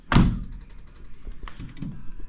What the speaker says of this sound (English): The door just shut on its own. Just let it fall in.